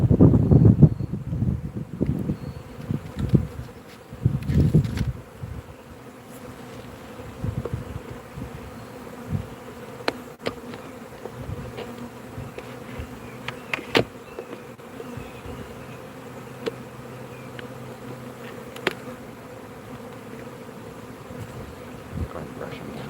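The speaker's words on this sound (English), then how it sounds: "We're getting ready to install some package bees." Honey bees from a package, supplied by Friendly Farms of Wakeman, Ohio, hum in a bee yard during installation, a steady buzzing with wind and handling noise and some heavier rustling early on.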